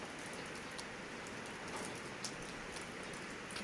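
Heavy rain pours down as a steady, dense hiss of drops, fairly faint and constant throughout with no voices.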